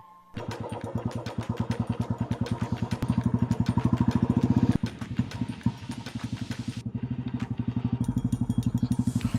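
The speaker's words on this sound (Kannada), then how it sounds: "ಇದು ನಮ್ಮದೇ ಬೈಕ್, ಯೂನಿಕಾರ್ನ್" A Honda Unicorn motorcycle engine runs loud and close with a steady, rapid thumping beat throughout, briefly dipping mid-way before picking back up, with no talking.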